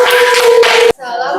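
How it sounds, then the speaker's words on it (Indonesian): A classroom of children clapping in a short, loud burst of sharp hand claps, which stops abruptly and gives way to a voice speaking. "Tepuk tangan untuk kelompok 1."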